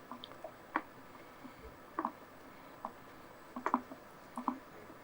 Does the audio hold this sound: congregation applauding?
no